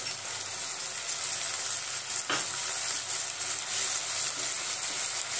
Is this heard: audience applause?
no